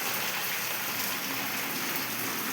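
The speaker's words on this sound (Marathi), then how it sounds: "बघा पाऊस चालू झालेला आहे." Rain just beginning to fall over a village in the Satpura hills, a steady broadband hiss of drops on surfaces that holds evenly throughout with no talk.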